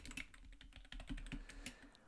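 Close, quiet tapping of keys on a computer keyboard, a quick irregular run of light clicks with no voices.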